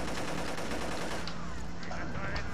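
Rapid automatic gunfire from a video game played on an Xbox controller, a dense continuous burst throughout, loud and close, with a voice talking over it.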